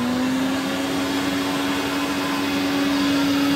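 A 1950 electric vacuum cleaner runs steadily after being switched on, giving a constant close-up motor whine with a strong, unwavering tone and broadband airflow hiss, heard alone without any talking.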